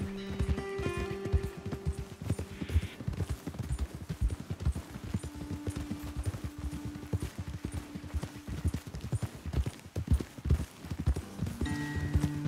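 Horse hooves clip-clop steadily in Red Dead Redemption 2, a rhythmic run of close, clear hoofbeats over a sustained background tone, with a brief whinny-like sound near the start.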